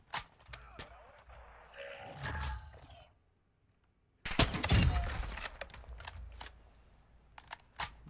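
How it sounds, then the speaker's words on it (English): Video game gunfire from AI enemies, several sharp bursts of shots in clusters separated by a quiet gap, with a louder volley in the second half and voices heard faintly in between. "AI started shooting at me"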